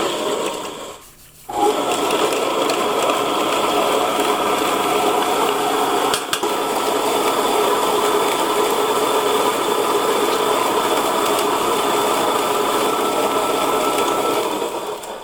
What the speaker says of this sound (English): I'll grind down the sugar for a little bit